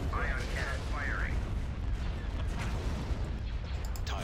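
An ion cannon fires in Star Wars: Empire at War, a heavy, sustained rumbling barrage that stays loud and dense throughout, with short electronic warbles and game chatter layered over it.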